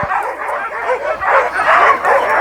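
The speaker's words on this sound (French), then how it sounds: "On dirait plus des chiens de chasse à courre." Sled race dogs resembling hunting hounds at the start of a race stage bark, yip and whine together in a loud, close, continuous chorus that rises and falls without pause.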